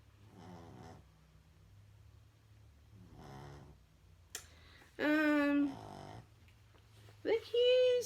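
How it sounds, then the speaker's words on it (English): A dog snoring softly in slow, regular breaths, faint and close, with someone speaking to it in louder bursts near the end. "can you wake up a little bit so you're not snoring so much?"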